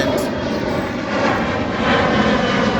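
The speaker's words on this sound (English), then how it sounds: "There's another airplane." A fixed-wing airplane passes over a hotel in a remote area, a steady, fairly loud broadband engine roar filling the whole stretch without fading.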